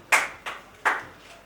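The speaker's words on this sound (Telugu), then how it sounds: "సర్వజనుడారా చప్పట్లు కొట్టుడు" A church congregation at Sunday worship claps hands: three sharp, separate claps about a third of a second apart, then a fainter fourth, each one quick to fade.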